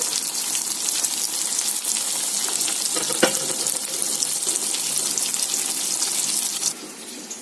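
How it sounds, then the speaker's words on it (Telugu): Steady broadband sizzle of tomatoes cooking in a pan, continuous and close, with a brief clink partway through and no talking. "టమోటా కూడా వేసి మగ్గిస్తున్నాను"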